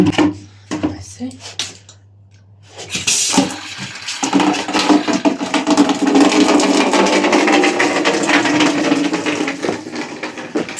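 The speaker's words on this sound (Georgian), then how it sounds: "ეხლა მე აქ აბანოში მოვუშვებ ცხელ წყალს" Hot water running into a bathtub, a few knocks and clatters first, then a steady loud rushing flow that continues to the end.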